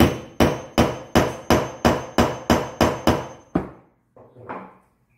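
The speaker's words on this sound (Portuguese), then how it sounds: "pegar um martelinho, se sacudir a câmera aí, então vocês vão ter que entender porque eu vou baixar o cacete aqui" A small hammer strikes a loose pin about ten times in steady, sharp, loud blows, each with a quick decay, followed by faint handling noise.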